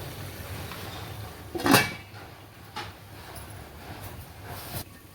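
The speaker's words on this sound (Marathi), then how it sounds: "त्याला झाकण ठेवूया आपण थोडंसं" A metal lid is set onto a pot of crab masala with one sharp clank, followed by a softer knock and quiet kitchen background.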